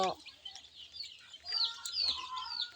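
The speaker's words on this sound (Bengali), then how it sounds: "আমার মুরগি অল্প কিছু মুরগি মাত্র পঁয়তাল্লিশটা মুরগি" Backyard chickens, a small flock of about forty-five being readied for vaccination, cluck in short, close bursts, with a sharp call at the start and busier clucking through the second half.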